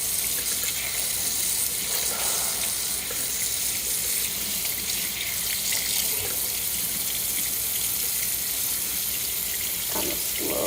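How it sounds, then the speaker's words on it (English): Tap water runs over a paint roller to rinse off excess paint during house painting in Las Vegas. A steady gushing stream splashes into a sink, constant and close, with no talk. "Coming over here and running water through our roll."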